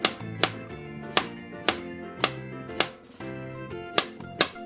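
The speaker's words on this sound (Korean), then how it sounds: "깻잎을 채 썰어주세요." A knife chops perilla leaves into thin strips on a cutting board for a Korean chive pancake. Nine crisp, evenly spaced strokes land close and clear, with no talking.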